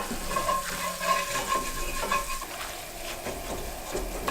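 Ube halaya browning in a pan is stirred continuously, a soft close scraping and thick bubbling sizzle with repeated spoon strokes and no talking.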